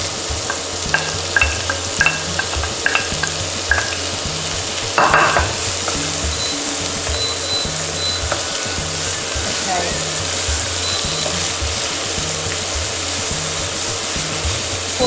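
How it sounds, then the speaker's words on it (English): Steady frying sizzle of onions in hot oil for dhal makhani, with a few brief utensil clinks and stirring noises over a constant crackling hiss. "Oh, now there's some mini sizzle."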